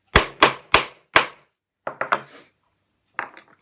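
A hammer strikes an eyelet hole cutter through fabric: four loud, sharp, evenly spaced blows, then a quick cluster of three lighter knocks, and after a pause a couple of faint taps.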